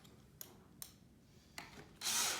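Screws driven into pre-drilled holes while assembling a farmhouse shoe bench, heard as short separate bursts of a drill or driver, then a louder sustained whir near the end, close and without talk.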